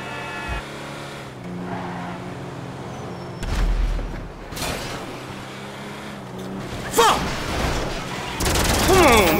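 Bursts of automatic gunfire rattle in GTA Online among engine revs and tire squeals from cars, with loud crashes and some talking mixed in.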